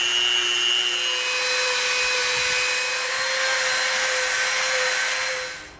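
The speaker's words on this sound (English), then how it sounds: "now we're gonna come in with our Dremel" A Dremel rotary tool grinds and rounds the edges of EVA foam for a Halo Magnum prop, a steady high-pitched whine running close and continuously for several seconds before cutting off.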